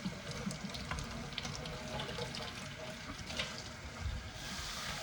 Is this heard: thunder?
no